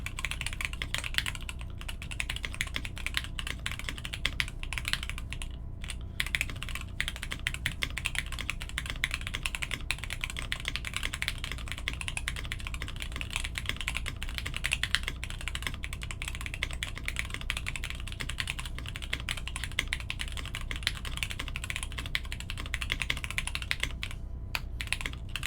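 Steady, continuous typing on a custom J-02 mechanical keyboard, a dense run of crisp close-up keystrokes with no talking.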